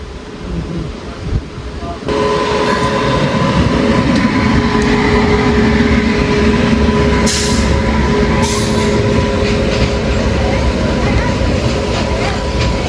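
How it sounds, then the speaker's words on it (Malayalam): A goods train of BCNA wagons hauled by a G9 locomotive rolls past, a loud, continuous rumbling roar with faint steady tones running through it that swells after a quieter opening. "ഇത് ഒരു ഗുഡ്സ് ട്രെയിൻ വരുന്നുണ്ട്, ഒരു BCNA ഫ്ലൈറ്റ് G9 അതിൻ്റെ ലോക്കോ"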